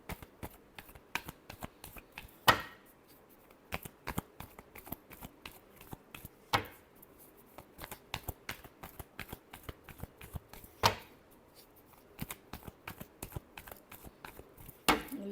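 Tarot cards are shuffled by hand in quick, crisp riffling bursts, with a few sharper slaps as the deck is squared, close and fairly quiet, no voice over it.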